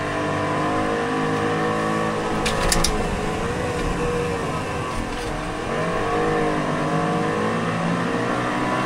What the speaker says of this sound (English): Taking this thing all the way to red line.